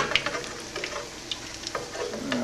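Beer-battered corn dogs deep frying in oil, a close steady bubbling sizzle scattered with small pops and crackles, with no voices.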